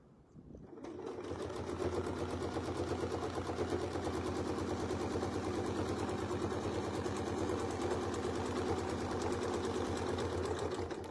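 A sewing machine starts up and runs at a steady fast rhythm, stitching quilt block pieces along a marked reference line, a close continuous mechanical chatter with no talking.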